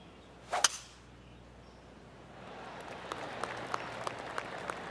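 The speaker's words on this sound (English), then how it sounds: "I can hear the golf claps around the course." In the video game PGA Tour 2K25, a sharp whoosh and crack, then soft golf crowd applause rising in the distance, with scattered individual claps over the gentle clapping.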